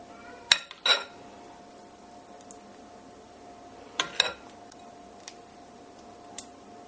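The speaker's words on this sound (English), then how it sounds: "Then we get our pastry case. And we're going to spoon it into the case." Pumpkin pie filling spooned into a pastry case, with a few sharp clinks of a spoon against a dish in two small pairs amid quiet room tone, no talking.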